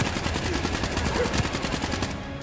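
AK rifle firing in the Call of Duty Black Ops 3 campaign: a steady, rapid automatic burst of evenly spaced shots, loud and close, stopping just before the end.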